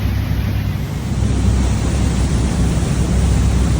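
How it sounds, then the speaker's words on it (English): Rain and wind roar steadily around a sailing yacht at sea during a rainstorm off the Florida coast, a loud, unbroken wash of noise with no pauses. "So we're currently on rainstorm number 5 for the day"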